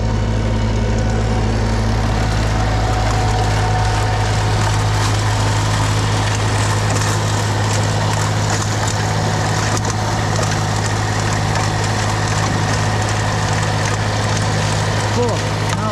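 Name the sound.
tractor engine running in snowstorm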